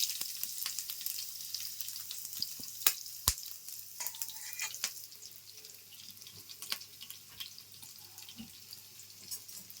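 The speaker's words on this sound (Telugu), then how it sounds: "నూనె వేడెక్కిందండి చిన్న ఉల్లిపాయలు ఒక పచ్చిమిర్చి వేసుకున్నాం" Small onions and a green chili frying in hot oil, giving a steady bright sizzle close by with scattered pops and a few clinks of a spoon, and no talking.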